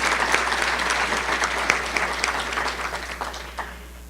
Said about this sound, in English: Let's give them a round of applause because we appreciate their support.